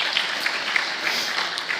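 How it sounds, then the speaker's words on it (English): An audience at a Parkinson's disease talk gives a round of applause, a short burst of steady, dense clapping filling the room. "Round of applause for Marty Miller."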